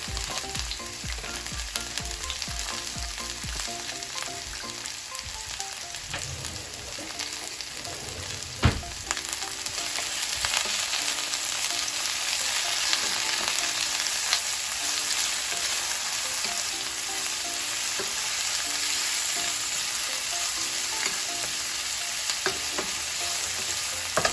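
Vegetables and ginger frying in a pan for a curry tofu dish, a loud, steady, close hissing sizzle that continues throughout with a brief clink partway through and no talk.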